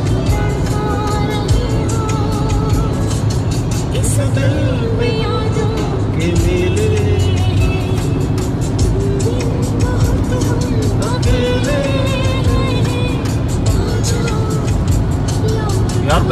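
Mahindra XUV500 and Ford Endeavour racing on a road, a dense continuous roar of engine and wind noise throughout, with people talking over it.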